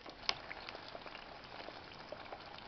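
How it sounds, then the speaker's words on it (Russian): Electrolyte fizzes and bubbles inside an exploded car battery, a faint, close crackle of small pops and sputters with one sharper snap near the start. "Он закипает."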